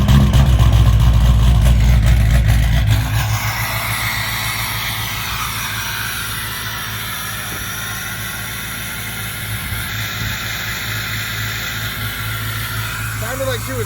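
A 6.0 pickup truck fitted with a leveling kit and rear blocks revs hard at close range for a few seconds, then drops back to a steady rumbling idle as people talk over it.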